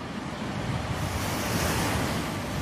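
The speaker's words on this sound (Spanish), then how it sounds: "Nunca unos ojos vieron una mar tan alta, tan terrible y llena de espuma." Stormy sea in a hurricane: heavy waves crash and roar without pause while strong wind rushes over them, a dense, loud, constant wash of noise with no voices.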